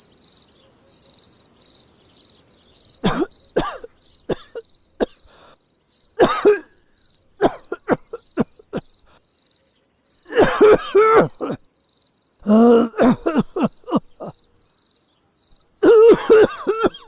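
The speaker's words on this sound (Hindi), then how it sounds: "एकदम से खांसी आने लगी" Several bursts of harsh coughing, close and loud, come in fits with pauses between, over a steady high insect-like chirr in the background.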